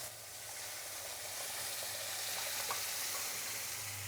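Lentils poured into hot oil tempering in a pan sizzle with a steady, dense hiss that holds for several seconds, close and even, with no voices.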